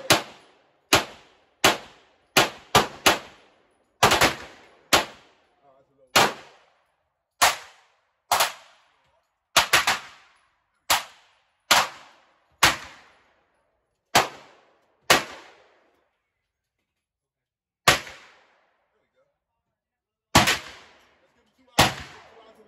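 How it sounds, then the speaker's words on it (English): .357 handgun firing Remington performance ammunition outdoors, about twenty loud, sharp gunshots, each with a short decaying echo, some spaced a second apart and some in quick pairs, with longer gaps near the end. "today we shooting this Remington performance ammo"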